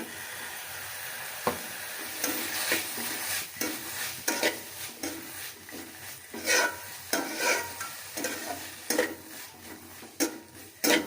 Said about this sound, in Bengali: ভালো করে নাড়াচাড়া দিয়ে ভাজি করে নিব